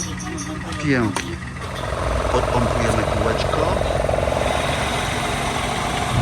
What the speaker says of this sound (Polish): Silniczek zobaczcie jak ładnie chodzi.